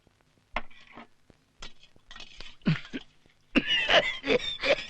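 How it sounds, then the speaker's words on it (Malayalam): A few sharp coughs and throat-clearing sounds from a beedi smoker, isolated at first, then a louder burst of raspy coughing near the end; no talking. "ഈ ചുമ എപ്പോഴും ഉണ്ടോ"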